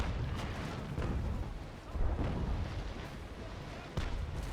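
Cannon fire from an enemy ship in the naval battle game Naval Action produces a dense, rumbling roar with several deep booms rising out of it, loud and continuous.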